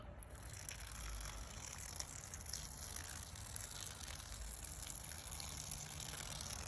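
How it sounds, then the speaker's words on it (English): Soapy water rushing out of a home-brew ginger beer keg line that had been seized with old brew, a continuous faint gushing flow with a high steady hiss and low rumble, no voices. "So this should come out with soapy water."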